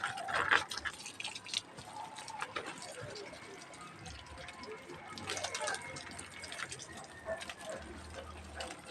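Water is poured onto a large potted alocasia plant, a soft filling and trickling sound close by, with a voice talking at times and faint outdoor background sounds.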